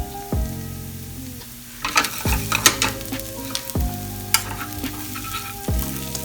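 Onions and mushrooms fry in a pan for a diner-style omelette, a steady crackling sizzle broken by a few bursts of louder spattering as ingredients hit the hot fat.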